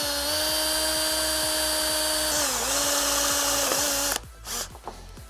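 A power drill whines steadily at high pitch for about four seconds while drilling a 7/16 hole in metal, its tone dipping briefly under load, then cuts out, leaving scattered clatter and handling noise.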